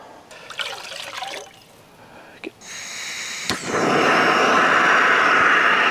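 Water poured into a pot for a beef stroganoff camping meal during a solo truck-camping trip: a few soft clinks and trickles, a sharp knock, then a loud, steady rushing pour that continues to the end.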